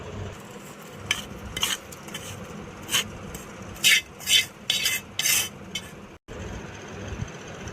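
Curry leaf mixture being mixed into hot cooked rice with a spoon, giving repeated scraping and clinking strokes against the pot in irregular bursts over a soft background hiss, close by.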